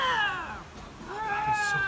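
Two lynxes face each other beside a path, trading rising, wailing growls that swell and fade in long, cat-like yowls, loud and close with no talk.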